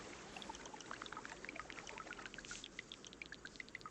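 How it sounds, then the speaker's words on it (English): Water pours steadily down a waterfall in the video game Terra Nil, a continuous rushing wash scattered with bright splashing droplets, moderately quiet and alone. "it's creating a waterfall."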